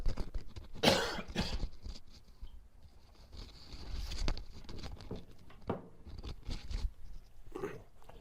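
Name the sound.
person coughing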